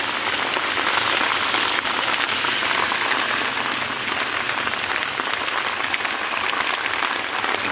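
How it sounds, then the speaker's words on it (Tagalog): Heavy rain pours steadily and loudly onto a surface, a dense, constant hiss that fills the whole stretch with no talk over it. "Grabe lakas ng ulan"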